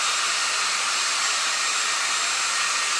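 A hair dryer blows continuously to dry paint on a flower painting, a loud, steady, close whooshing roar with no pauses.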